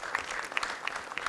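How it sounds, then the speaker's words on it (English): An audience at a panel on youth with disabilities claps steadily and at close range, a brief burst of scattered hand claps with no voices over it. "Well, again, an applause for all our panelists for now, just for the stories they shared."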